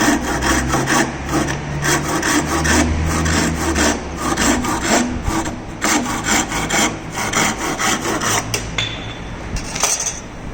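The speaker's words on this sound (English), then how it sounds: "cut it with the help of hand saw" A hand saw cuts through a wooden workpiece in a carpentry shop, continuous rhythmic rasping strokes close up and fairly loud, with no talking.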